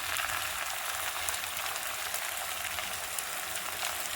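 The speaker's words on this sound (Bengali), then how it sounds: "এখন মশলাগুলো দিয়ে দেবো তেলটার উপরে।" Whole spices sizzle in hot oil in a pan, a steady, dense crackling hiss that runs without a break, with no voices.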